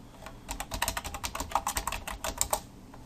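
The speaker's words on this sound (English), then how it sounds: "And I'm going to type in my office address." Steady close typing on a computer keyboard, a rapid run of light plastic key clicks in an uneven rhythm lasting throughout, with no voices.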